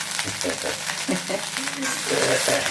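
Curry leaves sautéing in a pan for a curry leaf chutney give a steady broadband sizzle with bits of stirring throughout, loud and close, and faint voices murmur underneath.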